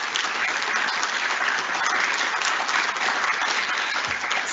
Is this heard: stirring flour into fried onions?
no